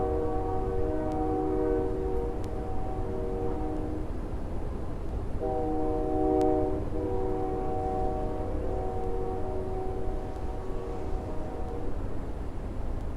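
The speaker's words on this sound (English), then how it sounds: "Got a train going by." A distant train rumbles past while its horn sounds in several sustained blasts, with steady low track noise throughout.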